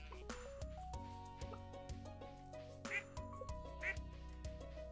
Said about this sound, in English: And duckies!